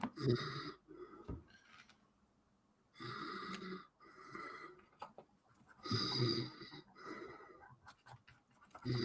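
A man snores nearby in slow, rhythmic cycles: rasping inhales alternate with quiet pauses, about three loud snoring breaths.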